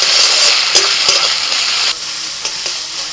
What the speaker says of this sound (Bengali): আদা রসুন কাঁচা লঙ্কাটা একটু ভেজে দিচ্ছি পেঁয়াজের সাথে